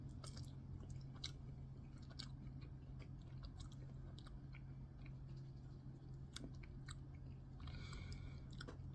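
Someone chews a pickled red hot sausage close to the mic: soft, wet bites and faint crunches repeat irregularly over a low, steady background hum, with no talk.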